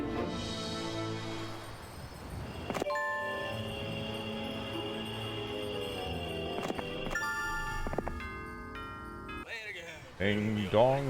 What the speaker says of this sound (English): That's the doorbell music there